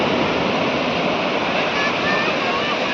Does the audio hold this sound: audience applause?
no